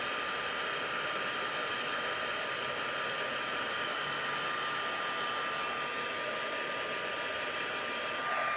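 A heat tool blows steadily to melt embossing powder for a Stampin' Up Halloween craft project, giving a constant close-up hairdryer-like whoosh that runs unbroken with no talking.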